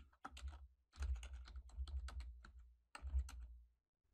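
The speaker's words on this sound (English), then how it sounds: "Once I type embody-he@outlook.com" Fast clatter of keys on a computer keyboard as an email address is typed, three short bursts of rapid keystrokes separated by brief pauses, close and fairly quiet.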